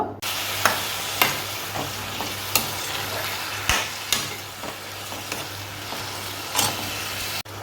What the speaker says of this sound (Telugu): ఇప్పుడు మనం ముందుగా కడిగి పెట్టుకున్న రొయ్యలు కూడా ఇందులో వేసి వేగించేసుకోవాలి